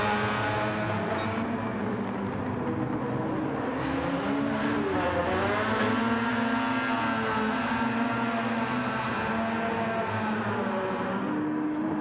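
A race car in a classic DTM racing video game spins its tyres, the engine whining and revving in rising and falling tones with steady tyre noise, continuous and moderately loud with no talk.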